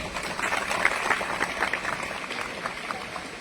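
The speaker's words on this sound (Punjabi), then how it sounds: "ਇਹਨਾਂ ਵਾਸਤੇ ਵੀ ਤਾਲੀਆਂ ਵਜਾ ਦਿਓ ਜੀ" Audience applause for the mothers of girls who performed on stage at a village school education event, steady crowd clapping throughout at moderate loudness with no speech over it.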